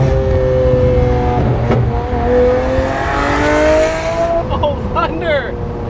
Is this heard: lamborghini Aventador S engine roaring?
yes